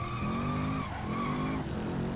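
A race car engine revs high and steady in Ford Racing 3 on PS2, its pitch climbing then dropping and climbing again, loud and continuous with no talking.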